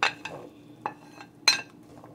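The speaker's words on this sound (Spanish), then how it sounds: "Vamos a empezar a sofreír las papas." A utensil stirs potatoes frying in about two tablespoons of oil in a hot pot, giving several sharp, separate clinks and scrapes against the metal over a quiet background, with no talking.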